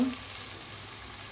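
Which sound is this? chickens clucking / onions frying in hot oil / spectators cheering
onions frying in hot oil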